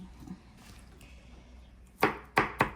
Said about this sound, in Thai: เป็นหอมแดงที่มันชิ้นใหญ่เนาะเราก็จะหั่นนิดนึง